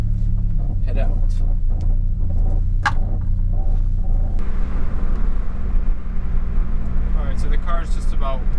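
A turbocharged Honda car idles while warming up, a steady low engine rumble that holds close and constant throughout. Someone talks over it in places.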